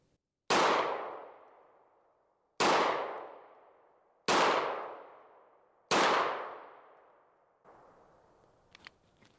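Four loud, sharp pistol shots from a Springfield Echelon 4.0C, evenly spaced about a second and a half apart, each with a ringing outdoor decay, followed by fainter clicks and handling noise.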